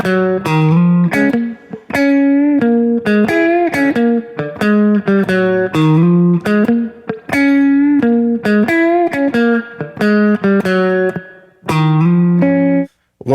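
Slow gospel quartet-style congregational groove riff on electric guitar, with clean, sustained single notes and double stops in a repeating, unhurried rhythm, close and loud with short pauses between phrases.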